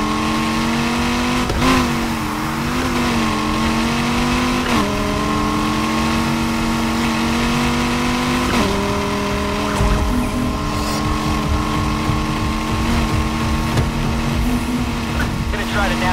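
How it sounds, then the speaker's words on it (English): A fully upgraded Ford GT in Need for Speed Heat revs steadily throughout, its engine note rising and dipping with several gear-shift drops during a police pursuit, loud and continuous. "Suspect's ride is a Ford GT."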